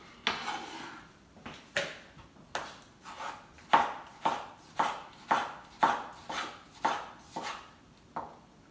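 Knife chopping onion on a cutting board while making a vegetarian ceviche, with a steady run of about fifteen crisp, close chops in an even rhythm and no talking.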